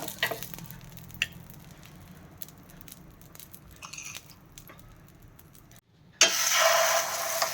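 Batter hits a hot tawa greased with ghee and bursts into a loud, bright sizzle near the end, following several seconds of quiet kitchen background with faint clinks.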